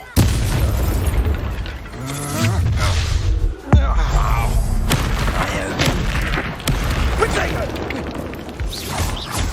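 Fire spell blasts from Hogwarts Legacy, a loud, dense run of booming, crackling bursts with a sharp crash near the middle, constant over music and a voice speaking.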